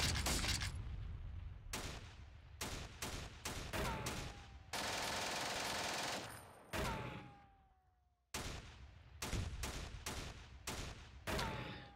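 Gunfire in the World War II strategy game Steel Panthers: repeated loud bursts of shots and machine-gun fire, one long sustained volley, and a brief quiet gap before more shots crack out in quick succession.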